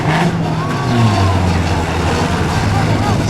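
A 4-6 cylinder Poor Man's class demolition derby car at Brigden fires up and revs, its engine note climbing and wavering loudly up close amid a noisy arena.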